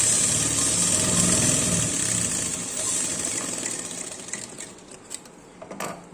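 A sewing machine stitches pant legs together in a fast, steady mechanical whir that holds loud and close for several seconds, then slows into a few separate clicks and knocks as the run ends.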